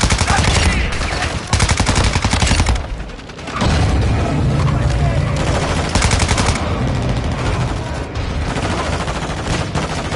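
Heavy gunfire in Modern Warfare 2, a loud, dense stretch of rapid automatic bursts and booms that drops out briefly near the middle before resuming, with faint voices beneath.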